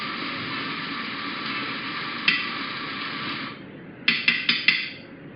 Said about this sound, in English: you're tapping when the grinder stops to settle the coffee grinds in the basket